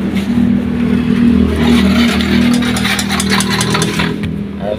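A faulty Yamaha Mio i 125 scooter engine runs close and loud, a steady droning idle with a strong low hum and irregular rattly ticking, no clear speech.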